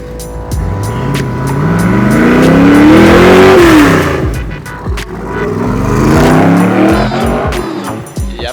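An AC Cobra, a small, very powerful sports car, revs hard and accelerates with a loud rising engine roar, drops pitch at a gear change, then climbs again, heard close and continuous with some tire noise.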